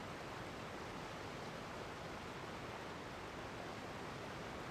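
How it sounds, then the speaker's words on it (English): Loud waterfall in Genshin Impact, a dense, steady roar of rushing water filling the whole stretch evenly without any pause or voice. "I do like the nice waterfalls, right? But they're very loud."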